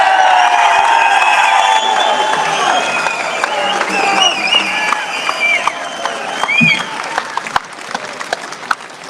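Crowd applause and cheering at a Rural Action Movement assembly at Parliament House, loud and dense at first, then thinning into scattered claps, with voices mixed in.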